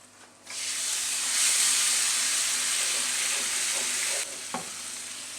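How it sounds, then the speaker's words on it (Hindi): Dry masala spices roasting in a hot pan for a fish masala: a loud, continuous close-up sizzle and hiss that starts abruptly, holds steady, then cuts off with a light clatter of stirring near the end. "हम मसाले को भूनूँगी"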